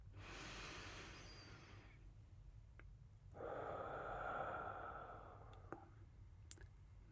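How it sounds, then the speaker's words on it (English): A slow, deep inhalation drawn in close to the microphone, a soft airy rush swelling for a couple of seconds in a quiet room, followed by a few small clicks. "deep breath in"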